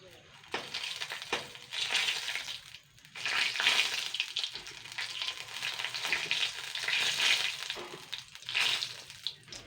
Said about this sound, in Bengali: তেলের মধ্যে আমি আস্ত জিরে দিচ্ছি ফোড়নের জন্য একটা তেজপাতা দুটো শুকনো লঙ্কা